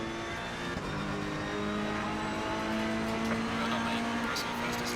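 Steady car engine drone from a racing video game, holding a sustained pitch that rises slightly as it revs through long, slow turns, with someone talking over it.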